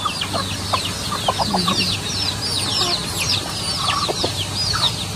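Chickens waiting near a hut by a fishpond dike cluck and chatter in short, repeated calls, several birds close by over a constant low background hum.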